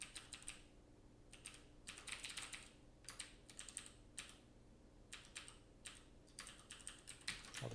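Steady bursts of typing on a computer keyboard, close and fairly quiet, with clusters of rapid key clicks separated by short pauses and no speech.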